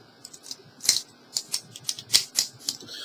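A handcuff key clicks against the double-lock push pin, giving a string of sharp, light metallic clicks and ticks of varying strength, close and crisp over a quiet background, with no voices.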